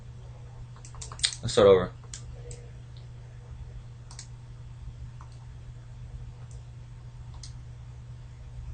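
A graphing calculator's keys are pressed in a few soft, scattered clicks, with a brief spoken phrase near the start over a steady low hum.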